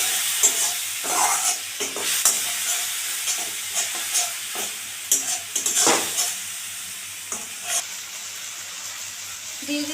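Spice paste with turmeric and water frying in a pan for a bitter gourd dish, with a soft bubbling sizzle broken by repeated scraping stirs of a spatula, close and intermittent.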